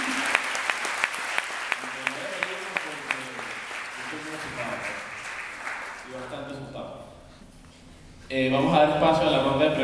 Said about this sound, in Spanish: le damos un fuerte aplauso al ingeniero